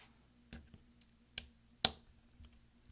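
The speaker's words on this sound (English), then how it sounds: "Now take your replacement F1 key and just put it right on top, and we're going to push down until we hear several snaps." A replacement F1 key on a mid-2010 13-inch MacBook Pro is pressed onto its plastic bracket, giving several sharp, quiet snaps spaced irregularly, the loudest near the end, over near silence.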